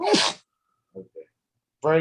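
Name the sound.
sneeze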